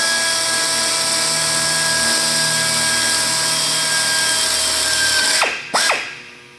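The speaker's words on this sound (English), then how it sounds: "this angle drill will allow me to come backwards and drill in and cleco in this part" An angle drill runs steadily at close range while drilling into sheet metal on an aircraft sheet metal project, its motor whine holding a constant pitch before spinning down in two quick falling sweeps near the end.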